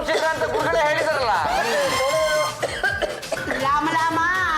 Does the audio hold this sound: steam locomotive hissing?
no